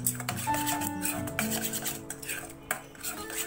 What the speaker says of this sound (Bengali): তো আমি এখন এটাকে এভাবে একটু মিশিয়ে নিচ্ছি